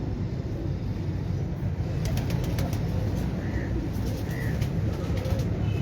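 Wild and breeder pigeons on a rooftop coo softly a few times, faint against a steady backdrop of wind and distant traffic noise.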